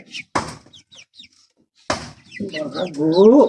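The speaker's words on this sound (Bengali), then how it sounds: "তো এই মুরগিগুলি একটু ভয় পাইছে" Frightened two-month-old farm chickens cluck and squawk nearby in short bursts, with a couple of sharp thumps and a rising agitated chorus toward the end.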